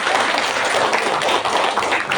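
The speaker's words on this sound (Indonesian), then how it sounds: "Beri tepuk tangan dulu." An audience at a school learning-community gathering for P3K teachers in Sungai Guntung claps steadily, a dense continuous patter of many hands filling the whole stretch with no voices over it.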